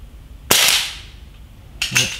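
A Stinger Hades PCP air pistol fires two pellets about a second apart, each a sharp loud crack close to the listener, followed by a brief fading tail.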